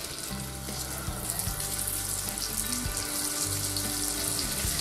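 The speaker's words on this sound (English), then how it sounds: "I prefer to fry my salmon in butter, but you can use olive oil of course." A salmon fillet fries in butter in a frying pan over medium heat, giving a steady, even sizzle that stays moderately quiet throughout with no talking.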